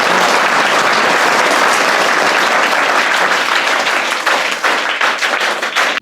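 A room full of people at a student education event clap loudly in congratulation, a thick continuous round of applause lasting throughout and tapering slightly near the end.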